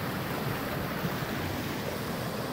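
Flooded creek rushing high after heavy rain, a continuous broad roar of churning water, close and steady with no voices.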